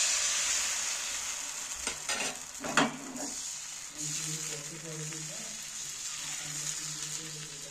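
Patishapta batter cooks in a lightly oiled pan with a continuous soft sizzle, and a few scraping clicks come through about halfway.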